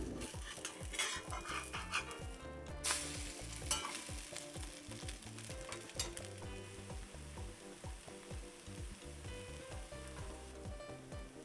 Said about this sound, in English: Let this cook for about a few minutes, I want to say 2 to 3 minutes, until the edges of the omelette are set.